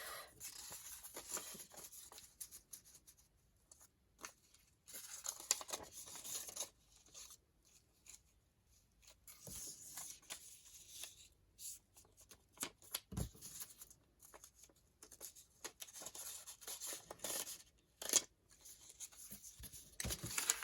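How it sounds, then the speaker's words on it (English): Sheets of notebook paper being folded in half during a paper craft session, soft intermittent rustles and creases at close range in a quiet room. "So I'm going to fold these in half"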